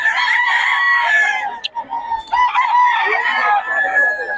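A rooster on a gamefowl chicken farm crows loudly and close by, one long call after another, with clucking and faint talk in the background.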